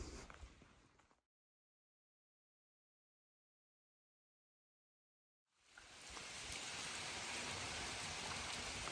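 Steady patter of melting ice dripping like rain, cutting out to silence for several seconds before the dense, close pattering returns.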